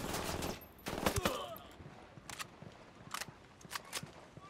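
A squadmate's gunfire in Ghost Recon: Wildlands, several sharp cracking shots in quick bursts, the loudest early and a few more spaced out later, fairly close against quiet background.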